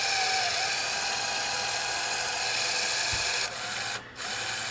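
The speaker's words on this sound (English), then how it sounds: "The gear is slipping down here." Slipping gear in the tape loading mechanism of a Sony Betamax 711B that will not load tape, a steady whirring motor hum with faint grinding, broken by a couple of brief dips near the end.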